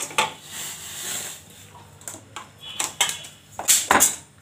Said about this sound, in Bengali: কড়াইটা বসিয়ে দিলাম